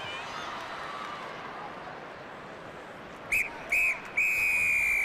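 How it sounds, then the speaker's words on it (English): Referee's whistle at a Wales v Italy Six Nations rugby match signalling half-time, sounding in three sharp blasts, two short then one long, over a steady roar of the stadium crowd. "That's the whistle that brings to an end a very encouraging opening 40 minutes for Graham Henry and for Wales."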